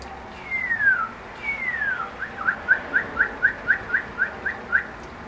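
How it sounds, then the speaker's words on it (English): A northern cardinal whistles two long downward-slurred notes, then a quick, evenly spaced run of about a dozen bright repeated whistles, clear and fairly close. "It's a cardinal."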